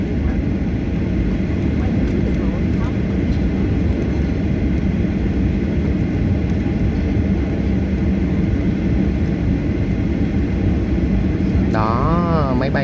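Airplanes move on a runway, producing a steady, loud engine rumble that holds throughout, with a brief voice near the end.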